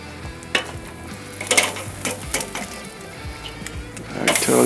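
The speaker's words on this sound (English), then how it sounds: "All right, let's get our sear going." Bone-in aged beef rib eye steaks sear with an uneven sizzle, broken by scattered clacks and bursts of spitting fat. The sizzle swells louder at the very end, with no one talking.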